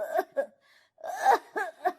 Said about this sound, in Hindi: अम्मा जोर जोर से खांसती है।